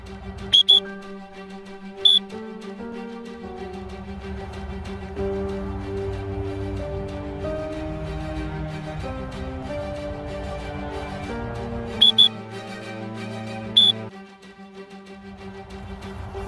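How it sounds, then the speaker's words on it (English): Sharp whistle blasts signal sprints during speed-training drills, short shrill bursts at the start and again near the end, heard over steady background music. "Two whistles, same thing, and then one whistle."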